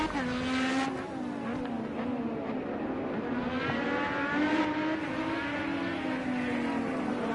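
Race cars run a CSKL Lights Series test race at Orland Park, their engines whining steadily and continuously at close range, with pitch rising and falling as they accelerate and lap the track.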